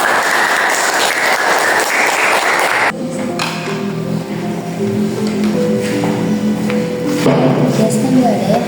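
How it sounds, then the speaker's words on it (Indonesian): Audience applause at a school Islamic youth organization's officer handover ceremony at SMA 4 Garut: loud, dense clapping for about three seconds, then it cuts off and gives way to other sounds. "Beri tepuk tangan semua."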